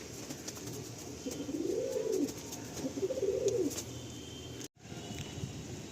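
Pigeons in a loft at Sonarpur coo in two soft, rolling bursts close by, with a faint rustle and a brief dropout near the end.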